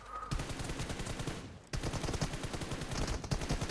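Rapid automatic gunfire rattles in the mobile game PUBG Mobile, a dense string of shots broken by a short pause before another burst, heard alone with no talking.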